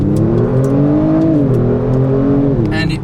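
The engine of a 2018 Kia Stinger GT in Sport Plus mode drones loudly as it accelerates from inside the cabin, pitch rising steadily with a slight dip near a shift.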